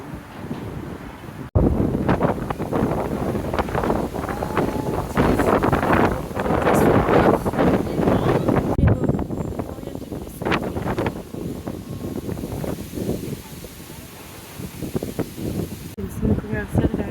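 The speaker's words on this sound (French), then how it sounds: "Il y a grave du vent." Strong wind buffets the microphone in loud, continuous roaring gusts in New York, with people talking faintly underneath.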